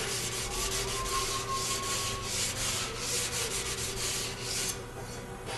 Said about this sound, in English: That's a rasp.